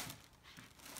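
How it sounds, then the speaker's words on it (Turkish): A small child tears open a crinkly plastic package wrapper, giving a second of close, continuous crackling and ripping. "Buradan yırtabilirsin. Yırt bakalım. Hadi paketi aç bakalım."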